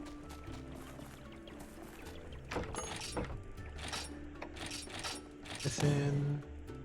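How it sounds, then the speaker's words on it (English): A waterfall in the video game Monster Hunter Stories gives a continuous rushing, pouring wash of water that swells slightly toward the end, layered with light game music and clanking effects. "Sound of a waterfall."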